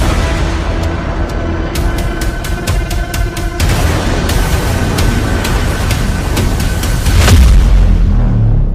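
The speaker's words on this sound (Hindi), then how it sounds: "इजराइल में ईरान की जुल्फिकार मिसाइलों के धमाके" Iranian Zulfiqar missile explosions in Israel: a dense series of sharp cracks and booms, loud and continuous, with a heavy low rumble swelling toward the end.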